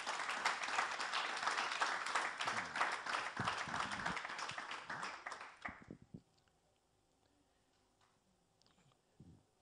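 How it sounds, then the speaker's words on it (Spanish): A church congregation claps in a dense, lively burst for about six seconds before it tapers into quiet room tone with a few scattered claps. "a los cuales sería bueno darle un grande aplauso ahora"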